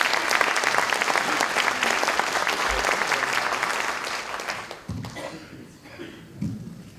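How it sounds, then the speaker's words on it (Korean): An audience at Inha University's presidential inauguration ceremony applauds loudly and steadily, then the clapping thins out and fades to scattered claps and room noise over the last few seconds. "박수 부탁드립니다"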